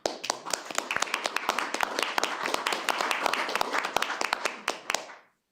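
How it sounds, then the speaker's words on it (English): A modest group at a city council meeting applauds, sharp close hand claps in a fairly sparse, irregular patter that builds briefly and then stops abruptly. "give them a round of applause"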